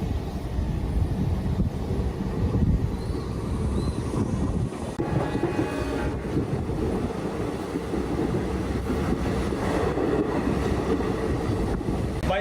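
Indian Railways local train travelling toward the border, a steady loud rumble of wheels and carriage throughout, close and continuous with no talk.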